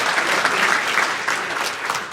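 Audience applause at a stand-up comedy show in Fort Wayne, Indiana: a steady, dense burst of clapping from a crowd filling the room for the whole stretch, loud and even without pauses.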